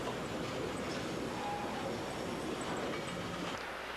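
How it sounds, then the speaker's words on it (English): Railroad cars hauling ladles at a steelworks make a steady rumbling, clattering roll with faint wheel squeal. The sound is continuous and moderately loud throughout, with no talking. "The railroad takes the ladles to the steelmaking furnaces or foundries."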